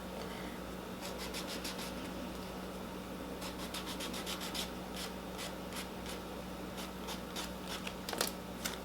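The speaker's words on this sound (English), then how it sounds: "take the sanding block, find a clean spot, and just rub those edges gently" A sanding block rubs the edges of polymer clay earrings in repeated short rasping strokes. The strokes come in quick bursts against a steady low background hum, close and fairly quiet.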